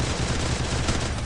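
An MP40 submachine gun firing in a multiplayer shooter video game, one dense, loud, continuous burst of rapid automatic shots filling the whole moment without a break.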